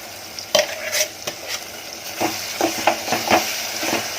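Prawns, onion and masala frying and being stirred in a pan for a Konkani drumstick and prawn curry, a steady close sizzle punctuated by repeated scraping stirs, with no talking.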